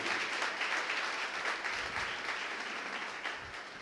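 A church congregation applauds in praise during a worship service, a dense, steady wash of many hands clapping that holds strong throughout and tapers slightly toward the end.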